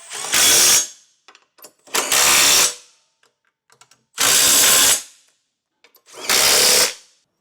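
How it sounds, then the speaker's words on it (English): Four loud, even bursts of a power tool driving home the 17mm socket on the bolts of a Curt trailer hitch receiver being fitted to a 2024 Subaru Ascent, each lasting under a second with short pauses between. "Now we'll tighten all that hardware down with our 17mm socket."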